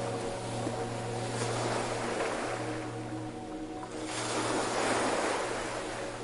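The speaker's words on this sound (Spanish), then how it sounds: "permítete sumergirte en el sonido de las olas. Escucha cómo se rompen suavemente contra la playa" Ocean waves break gently on a beach in a steady, broad wash of surf that swells and recedes, with a low constant hum underneath.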